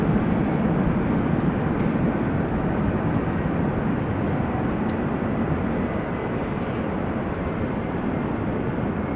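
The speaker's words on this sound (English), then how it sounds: "this is a 787-10 that has been pushed back just now" A Boeing 787-10 Dreamliner just pushed back at Amsterdam Schiphol Airport gives off a loud, continuous, even jet-engine roar that holds steady throughout without breaks.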